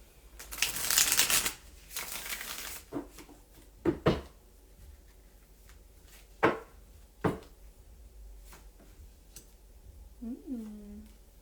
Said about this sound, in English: Okay, one more shuffle here.